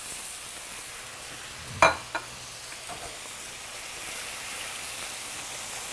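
Plum tomatoes and onions sizzle steadily in a frying pan for Sicilian pizza topping, a continuous hiss with a sharp clink of a utensil against the pan near the middle.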